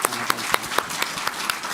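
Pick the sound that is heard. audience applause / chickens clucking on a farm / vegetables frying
audience applause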